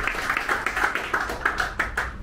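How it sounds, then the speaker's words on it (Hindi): Clapping at a business leaders' meeting for a sales and construction firm, a modest group of hands beating in an uneven, pulsing rhythm, fairly close and clear, with no talk over it. "जोरदार तालियां विकास सर"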